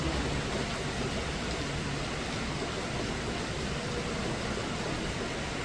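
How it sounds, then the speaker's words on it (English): Steady rain falling at night outdoors, a dense, even hiss of drops on surfaces continuing unbroken and fairly close throughout. "I love the rain."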